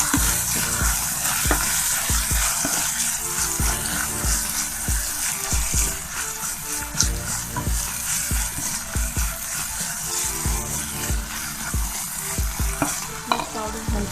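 Okra frying in a pan with green chilies and mint leaves added for masala bhindi, a steady loud sizzle with repeated stirring scrapes and clinks running continuously, no voices.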